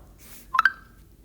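A mobile phone gives two quick close beeps, short bright tones one right after the other, in an otherwise quiet room.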